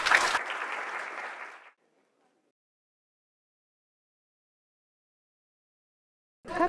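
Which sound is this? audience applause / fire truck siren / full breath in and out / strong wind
audience applause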